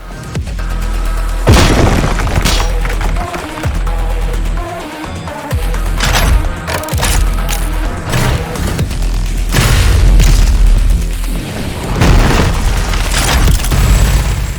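Grenade blasts in the DOOM Eternal shooter come as a series of loud, heavy booms and crashing bursts spread through the stretch, layered over continuous dense game noise and rumble.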